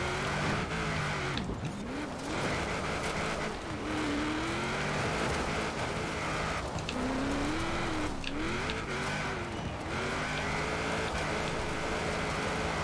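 A Ford Focus RS on road tyres in Forza Horizon 4 revs hard, its engine note rising and falling through repeated gear changes, with occasional tyre squeal, steady and close throughout.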